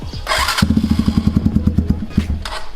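A carbureted motorcycle engine cranks and catches, then runs in a steady, rapid thumping idle close by, with a brief rev near the end.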